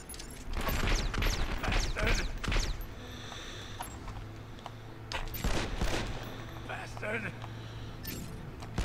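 Video game machine gun fire from 24: The Game on PlayStation 2 comes as a loud opening string of rapid bursts, followed by sparser shots and mechanical clatter, with a player's voice talking over parts of it.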